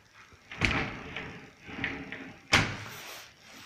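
A glass shower-box door with its knob is handled, giving a couple of sharp knocks and clacks, the last one loudest, with softer rattling and shuffling between them and no talking.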